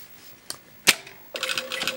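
A Juki DDL 9000 industrial sewing machine clicks and engages, with a couple of sharp mechanical clacks and then a short, fast run of stitching, close and moderately loud.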